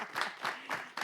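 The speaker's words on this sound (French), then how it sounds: "Tu vas me dire comment toi-même tu as senti tes applaudissements." Audience applause at a live event rises in several bursts over about a second, steady and full without voices standing out.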